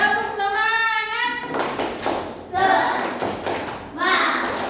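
Primary-school children in an Indonesian classroom perform the tepuk semangat spirit chant, a sung call followed by bursts of loud group clapping and slapping in a quick rhythm, with young voices mixed in.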